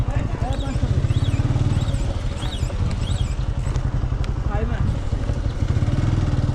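A TVS Apache RTR 2V motorcycle engine revs loudly and steadily up close during a wheelie stunt, a continuous buzzing drone with rising and falling pitch and no pauses.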